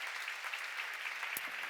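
A church seminar congregation claps briefly, a soft, even patter of hands at moderate distance that holds throughout, with one sharp knock near the end.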